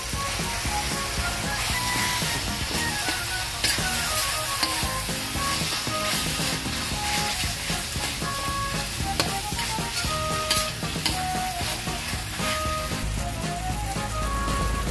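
Ground pork cooking in a pan with tomatoes for saucy giniling, a dense continuous sizzle and sputter with stirring scrapes, close and steady, and no voices over it.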